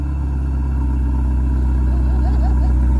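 A car engine hums loud and close on a street in Saint-Tropez, France, a constant low drone that stays steady for a few seconds as a Mustang drives by, with no distinct rise or fade.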